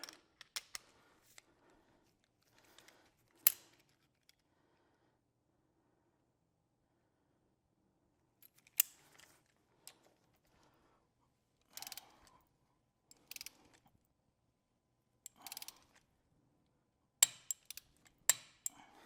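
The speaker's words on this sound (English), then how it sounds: "Let me get my other torque wrench." A torque wrench on motorcycle throttle body bolts, sparse sharp ratcheting clicks and metallic taps scattered through quiet, close and fairly faint.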